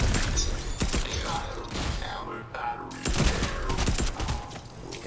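Gunfire from another player in a Fortnite-style video game, continuous rapid crackling shots and thuds filling the clip with a brief dip midway, with faint talk underneath.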